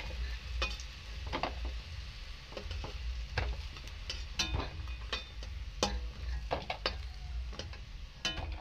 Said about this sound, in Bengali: লোহাতে আমি ভাজে নিচ্ছি।